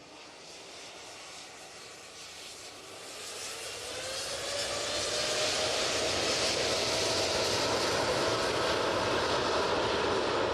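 A passenger jet departing Manchester Airport on the QR26 flight to Doha builds from a distant rumble into a loud, sustained roar of engines at takeoff power, swelling over several seconds and holding steady.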